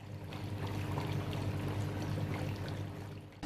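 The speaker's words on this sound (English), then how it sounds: "indicate that the washer is running, which will obviously see the washing action" An O3 ozone fruit and vegetable washer runs steadily, a continuous low hum mixed with bubbling, churning water that stays close and constant throughout.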